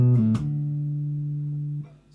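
Jazz guitar plays a walking bass line: two quick low notes step into a longer sustained note that rings alone before fading.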